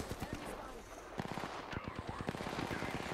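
Spitfire machine gun in Apex Legends firing rapid bursts of loud, close gunshots in quick rhythmic sequence, with a short pause before the fire resumes.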